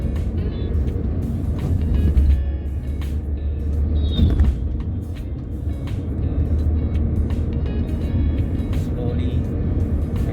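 A vehicle driving and overtaking on a road in Bihar, a continuous low engine and road rumble with passing traffic swells, heard under someone talking.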